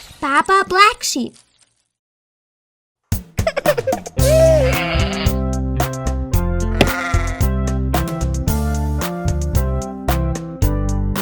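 Sheep bleats in a children's nursery rhyme: a wavering baa sounds, then silence, then a bouncy sung tune with piano-like accompaniment begins, with voices singing over the steady music.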